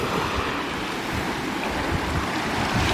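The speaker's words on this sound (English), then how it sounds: "Big waves coming in." Big ocean waves roll in on a beach at Skerries on Ireland's east coast, a loud continuous surf wash with wind buffeting the microphone.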